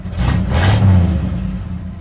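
A 1967 Chevrolet Impala engine revs close by, a deep rumbling drone that swells twice and then settles into a steady idle.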